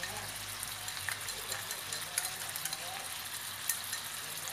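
Shallots, minced garlic and chili sizzle in oil in a pan with braised mackerel, a steady crackling fry with small pops and some stirring throughout.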